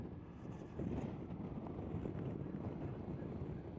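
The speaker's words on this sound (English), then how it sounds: "it's windy today." Wind buffets the microphone during a motorcycle ride on a windy day, a steady, loud, low rumbling roar that fills the whole stretch without letup.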